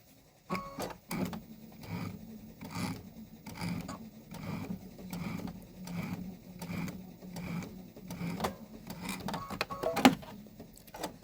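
A Kimberbell embroidery machine stitches along a grass seam, giving a steady rapid mechanical patter with a low motor hum, rhythmic and close, running alone for the length of the passage.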